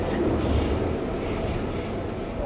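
A subway train pulls into Shibuya station in the video game Persona 5 Royal, a steady, full rolling rumble of carriages on rails that continues without a break.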